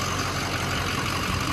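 Truck engine idling with its cooling fan engaged and blowing, a steady, even whooshing roar over a low engine hum, close and constant with no talk.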